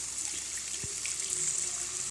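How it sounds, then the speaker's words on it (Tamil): Water pours into a pot for veg Maggi, a steady close rushing flow with a faint hollow splash that carries on evenly before cutting off abruptly at the end, with no talking. "இப்போ மேகிக்கு தேவையான அளவுக்கு தண்ணி ஊற்றலாம்."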